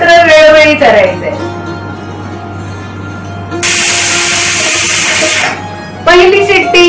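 A pressure cooker full of tomatoes for homemade tomato sauce lets out one loud, steady hissing whistle of steam lasting about two seconds, with someone talking before and after it.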